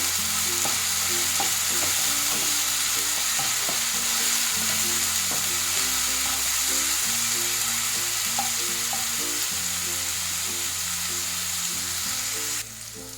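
Ginger and garlic paste fries in hot oil for a green-masala chicken curry, a loud, continuous close-up sizzle with occasional scraping stirs, alongside a background tone of steady stepped notes.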